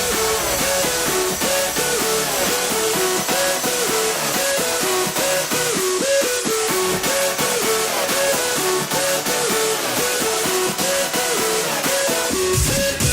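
The breakdown from an earlier version of an electronic dance track plays continuously and loud, with dense layered synths and a repeating melodic pattern and no voices over it.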